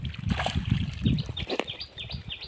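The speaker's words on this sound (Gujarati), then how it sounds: "અત્યારે પાણી તો આવી ગયું છે પણ થોડું થોડું આવે છે અત્યારે" Water pushed by a pump motor splashes and gurgles into a farm channel at close range, with small birds chirping intermittently around it.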